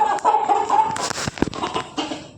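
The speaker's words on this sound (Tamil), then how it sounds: "சேவல் ஒரு வழியாக பிடிச்சிட்டு வந்தாச்சு." A rooster squawks and clucks loudly and agitatedly up close while being caught and held by hand, with flapping scuffles in between.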